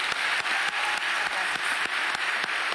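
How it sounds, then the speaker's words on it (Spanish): An audience applauds at a youth conversation event with Vargas Llosa, steady dense clapping with a few sharp individual claps standing out, continuous throughout and without speech. "Vamos a darle un gran aplauso"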